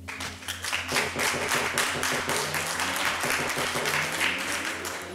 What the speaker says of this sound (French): Ça s'applaudit, ça, hein?